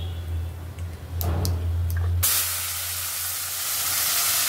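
Banana flower is poured into hot oil tempered with cumin, and a sudden loud, close, broad sizzling hiss bursts out and continues steadily after a quieter, humming start.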